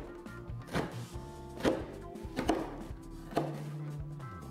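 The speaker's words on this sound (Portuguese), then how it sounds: "Então agora a gente corta umas fatias bem fininhas." A knife slices a leek into thin rounds on a cutting board, four or five distinct chopping thunks at an uneven pace, close and fairly quiet over background music.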